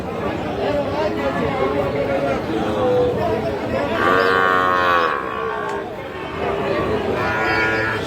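A cow at a cattle market lets out a long, loud moo, then another, over a busy background of crowd chatter and talking nearby.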